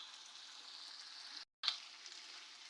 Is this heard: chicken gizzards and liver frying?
yes